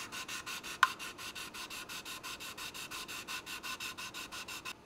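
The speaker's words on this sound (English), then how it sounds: "we're gonna use some good old Infinity sanding sticks" Sanding sticks scrub a model P-40F Warhawk aircraft cowl in quick, even back-and-forth strokes, a close, rhythmic raspy rubbing that repeats steadily with no talking.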